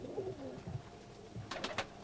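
Small spangle pigeons cooing in a loft, a low soft coo early on, then a brief burst of three rapid fluttering or scuffling sounds near the end.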